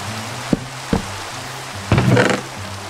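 Steady rain hiss from the Minecraft video game, with a few soft isolated taps and a brief louder patter burst near the end, heard alone without talk.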